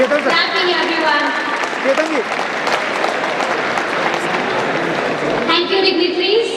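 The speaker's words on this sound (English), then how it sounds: "Clapping, everyone." An audience claps at a talk by a speaker, steady dense applause filling the hall for several seconds with a voice briefly over it near the end.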